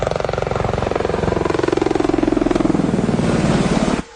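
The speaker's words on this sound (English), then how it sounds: "The Apache Longbow is the first in-service helicopter upgraded for the digital battlefield." AH-64 Apache Longbow attack helicopter with a steady, rapid rotor chop and engine whine, loud and continuous for about four seconds before cutting off abruptly; no voices.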